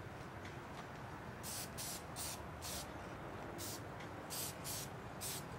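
A spray paint can hisses in short bursts of about half a second each while coating an RC short course truck body, a series of spaced sprays with brief pauses between them over quiet room noise.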